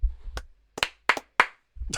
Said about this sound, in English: Clap 3 times for the previous episodes